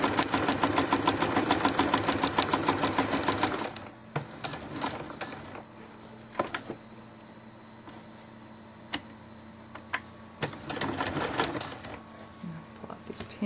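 A sewing machine stitching a dollhouse-size quilt runs in a fast, steady mechanical whir for a few seconds, then stops; afterward come quiet handling clicks and a brief second burst of stitching.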